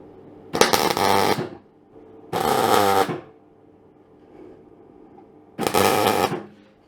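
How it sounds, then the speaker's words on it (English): Three bursts of welding on a Hillman Imp rocker cover, each a loud broadband crackling hiss lasting under a second, separated by quiet pauses with faint workshop hum. "I shall weld that down now"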